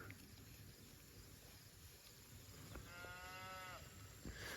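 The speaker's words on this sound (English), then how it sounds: "I hear one calf over there bawling." A lone calf bawls somewhere across a Gama grass pasture where a herd of about 260 cattle is held during severe drought. It gives one drawn-out, fairly distant call against a steady outdoor background hiss.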